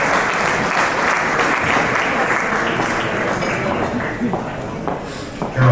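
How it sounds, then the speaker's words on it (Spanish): Sustained audience applause at a business convention on purchasing digitalization, with dense clapping holding steady for several seconds before tapering slightly near the end. "un fuerte aplauso para Ernesto Castro y Alberto Redondo"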